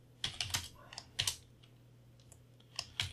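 Typing on a computer keyboard to enter a file name in a directory, with clusters of crisp nearby key clicks separated by short pauses and a faint electrical hum underneath.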